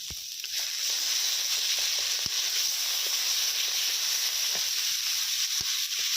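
Chili powder and Kashmiri chili powder hissing in hot oil in a pan, a steady, bright sizzle that swells after the first second and holds, with faint scraping ticks.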